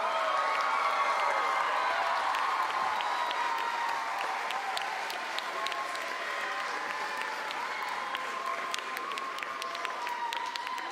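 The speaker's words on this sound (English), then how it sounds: "But again, big cheer." Steady applause and cheering from spectators at a swimming meet in an indoor pool hall: dense clapping and raised voices fill the space without pause, loud and sustained throughout.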